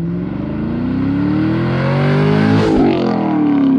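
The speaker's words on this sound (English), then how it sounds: "it does have an AWE cat-back exhaust on it" A Chevrolet Camaro 1LE fitted with an AWE cat-back exhaust revs loudly and steadily up, with a rising harmonic engine note, a brief blip near the peak, then an abrupt cutoff at the end.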